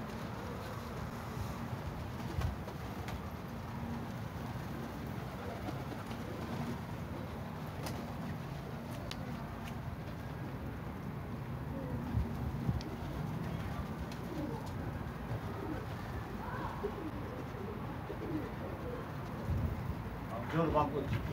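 Pigeons coo repeatedly in a Turkish pigeon loft, soft throaty calls recurring through a steady background hum and scattered rustles, fairly close and moderately loud.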